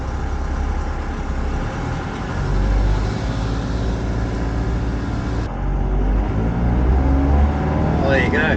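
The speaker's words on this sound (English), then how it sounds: "Cadell Ferry across the Murray River." The Cadell Ferry carries a car across the Murray River, its engine idling in a loud, steady drone close by, with the rumble holding constant throughout.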